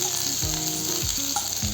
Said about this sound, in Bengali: রসুনের কুচিটা অল্প ভেজে নেব।